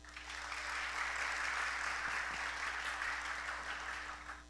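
An audience at a church gathering applauds a music group with steady, even clapping that swells and lasts a few seconds before fading, fairly distant and without voices.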